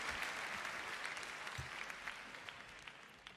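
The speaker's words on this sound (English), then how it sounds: "I think the Royal Albert Hall audience deserves a round of applause for themselves." Audience at the Royal Albert Hall, ahead of a sumo tournament's closing ceremony, applauding steadily: a dense wash of clapping that holds throughout and tapers slightly toward the end.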